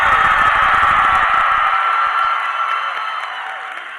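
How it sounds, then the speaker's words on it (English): Audience applause fills a convention panel room at a FanX fan event in Salt Lake City, a loud, dense wash of clapping that starts full and slowly fades over four seconds. "Give a huge round of applause for Dante."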